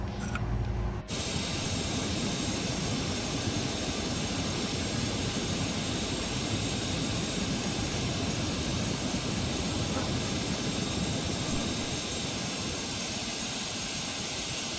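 Jet engines of a Citation Sovereign+ business jet in a flight simulator game, a steady loud broadband roar while taxiing that holds through the whole stretch after a short click-like start.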